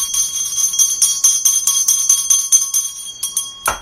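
A small hand bell rung for tea, giving a rapid run of bright, ringing strikes with a steady rhythm, close and loud, ending in a sharper final clang.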